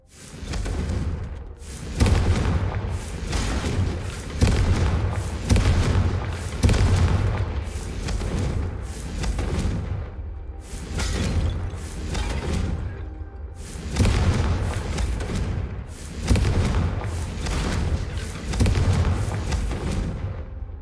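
Confringo blasting-spell explosions in the Hogwarts Legacy video game, heard as a rapid series of deep, booming blasts every couple of seconds over a dense rumbling game soundtrack.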